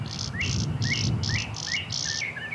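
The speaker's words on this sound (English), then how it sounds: "That clay-colored sparrow is still up there, very nearby though." A clay-colored sparrow sings nearby, repeating a high, dry buzzy note about six times in a steady rhythm over a low background rumble.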